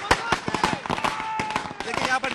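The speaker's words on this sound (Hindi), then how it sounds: "देखिए यहाँ पर लगातार आतिशबाजी भी हो रही है" Fireworks and firecrackers burst in a rapid, crackling string at a BJP victory celebration in Agartala, sharp pops close by over crowd noise and voices.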